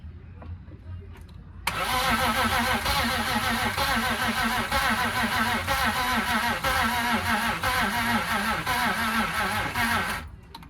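A BMW E46's newly installed engine cranks briefly, then catches and runs loudly and steadily, idling with a rough, busy rumble before cutting off near the end.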